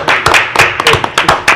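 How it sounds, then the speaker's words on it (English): Audience at a county commission meeting clapping in a short, brisk burst of applause, a few hands loud and close, lasting under two seconds. "Round of applause."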